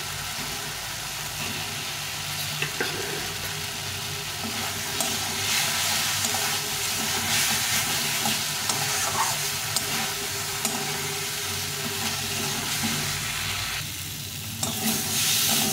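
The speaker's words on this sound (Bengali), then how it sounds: "এখন এর মধ্যে দিয়ে দেবো এই আলুগুলো ভেজে রেখেছিলাম, আলুগুলো দিয়ে একটু কষিয়ে নেব" Fried potatoes stirred and sautéed in a cooked spice paste in a pan, giving a steady, close sizzle with scraping stir strokes throughout and a low hum underneath.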